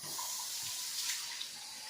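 Kitchen tap water runs in a steady, soft hiss while vegetables are rinsed under it, continuous for the whole stretch with no voices.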